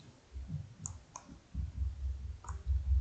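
A computer mouse gives a few small, sharp clicks, spaced apart and close, over a low background rumble.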